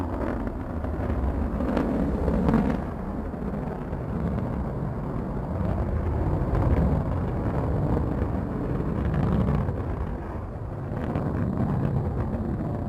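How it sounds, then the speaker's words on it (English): The Blue Origin New Shepard rocket lifts off from launch site 1 in West Texas with a continuous deep, rumbling roar that stays loud and steady throughout, wind-buffeted and distant in character. "Beautiful liftoff from our launch site 1 in West Texas"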